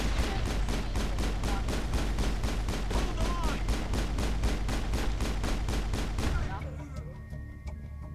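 Rapid, steady gunfire from a firefight in the video game Mass Effect, a dense continuous burst of shots for about six seconds that then cuts off, leaving quieter background noise.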